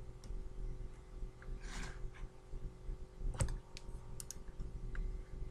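Quiet computer mouse and keyboard clicks, a few light, sparse taps over a low steady hum, with one sharper click near the middle.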